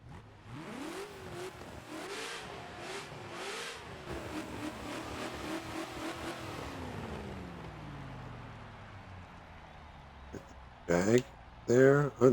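Several race cars including a Ford GT40 rev and accelerate off the start at Spa in Forza, engine pitch rising and sweeping through gear changes, someone talking over it before a few louder bursts near the end.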